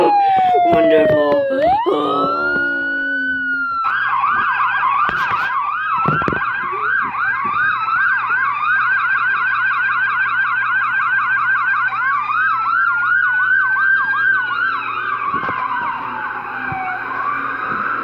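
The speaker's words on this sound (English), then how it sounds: "The ambulance is coming!" A loud wailing ambulance siren sweeps up and down continuously, close and steady, with a brief whoop at the start.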